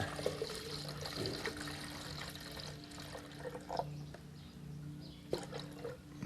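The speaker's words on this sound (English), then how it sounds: "I'm gonna put a little water in it" Water trickles and splashes softly into a blender, faint and close, with a low steady hum in the background.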